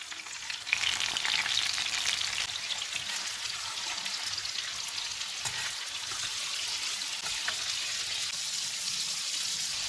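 Keema kababs sizzle on a tawa over medium-low heat with yogurt poured on top, a close, continuous bright frying hiss with faint crackles and no talking.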